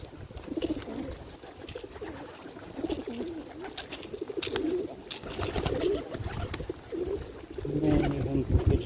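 Pigeons coo in a low, steady murmur while they feed from a pot, with soft pecking and rustling throughout and a slightly louder burst of cooing near the end.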